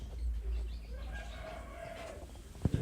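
A rooster at an animal sanctuary crows over steady outdoor background noise, with a drawn-out call in the middle and a couple of sharp clucks near the end.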